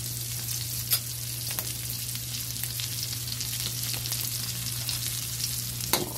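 Sautéed bottle gourd with garlic being stirred in a hot pan, giving a continuous close sizzle over a low steady hum, with a couple of sharp utensil taps and no talking.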